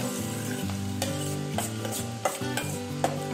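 Chopped onion sautéed and stirred in a pan for a fish curry: spatula scrapes and taps repeat over a light, steady sizzle, close by, with background music running underneath throughout.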